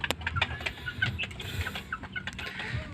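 A white Kelso hen clucks in soft, repeated bursts close by, with other chicken sounds scattered through a busy farmyard background.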